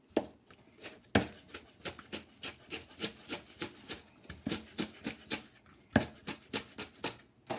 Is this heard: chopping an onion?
yes